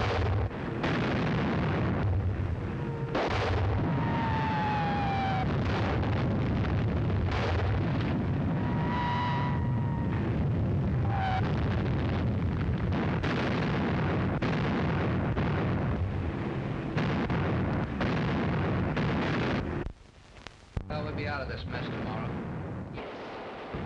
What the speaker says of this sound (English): Another bombardment.